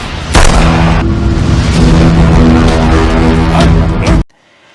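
A film explosion ambushing a police convoy: a loud, dense blast and rumbling roar sustained for about four seconds, then cutting off abruptly to near silence.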